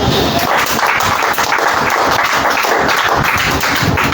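A church congregation applauding in steady, dense hand clapping at full level for about four seconds, with no talk over it.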